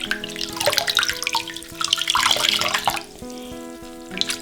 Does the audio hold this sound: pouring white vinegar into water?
yes